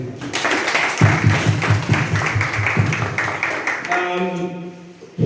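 Audience applause at a community coaching-course closing ceremony, a crowd clapping steadily for about four seconds over low hum and some murmuring, then fading as a voice begins to speak.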